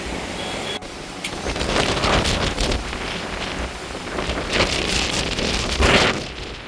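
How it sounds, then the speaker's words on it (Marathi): Strong monsoon wind gusting at Sydney Point viewpoint in Mahabaleshwar, roaring steadily across the microphone in loud, buffeting surges. "पण आज धुकं नाही आहे आणि पण हवा भरपूर सुटलेली आहे"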